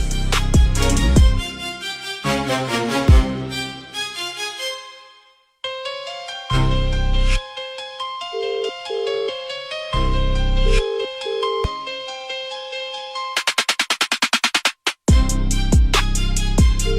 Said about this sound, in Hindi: क्या हुआ? फोन नहीं उठा रही हो?